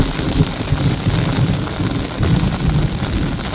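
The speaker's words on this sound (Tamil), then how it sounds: "இடி இடி நல்லா இடி இடி இருக்குதுங்க" Low, rolling thunder rumbles beneath a steady downpour of rain, the storm noise loud and continuous throughout.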